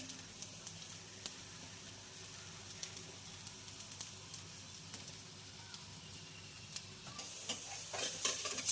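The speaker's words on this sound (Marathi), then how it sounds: "आणि हलकंसं असं तेल वरून सोडायचं आहे आपल्याला आणि मध्यम गॅसवर हा छानपैकी खरपूस असा भाजून घ्यायचा आहे" A bottle gourd dhapate flatbread roasts in a little oil on a pan over medium heat, giving a faint, steady crackle with scattered tiny pops that grow a bit busier toward the end.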